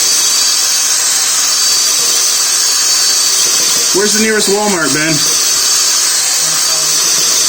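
A power drill whines loudly and continuously during work on an ALCO S6 locomotive turbocharger, a harsh high-pitched motor drone that never lets up while a man briefly asks a question over it.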